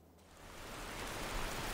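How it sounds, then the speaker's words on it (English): Steady rain falls, a dense broadband hiss that swells slightly and holds evenly throughout, with no voices. "It's going to be slippery in all this rain."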